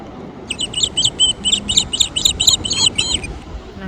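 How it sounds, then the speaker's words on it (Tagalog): Seabirds calling at Atwick beach in East Yorkshire: a quick run of about a dozen sharp, high chirps in steady succession, fairly close, over a constant low bed of wind and shore noise. "Ay, mga ibon."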